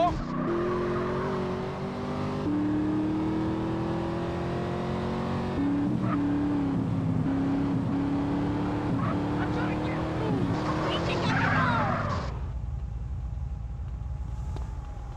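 Engines roar during a car chase in GTA San Andreas, with revving, shifting pitch and tire noise throughout, a voice talking over it, before the engine drops to a low idle near the end.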